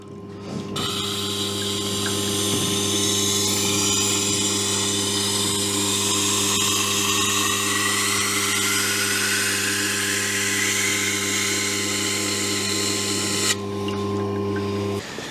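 Composite wheel on a sharpening machine deburring a freshly sharpened plane blade or chisel, a loud steady motor hum with a high abrasive hiss running the whole time, alone and without talk.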